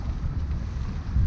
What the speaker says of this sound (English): the wind has increased a bit, so it's blowing 18, 19 knots